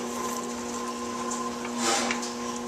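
An electric potter's wheel spins at a steady pace while a cylinder is thrown from slightly wet clay, giving a continuous even motor hum with soft wet friction and a brief swell of rubbing near the end.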